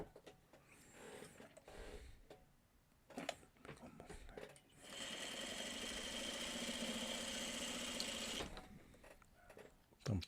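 A sewing machine stitches quilt block pieces in one sustained, even mechanical run of a few seconds, framed by quieter handling clatter before and after.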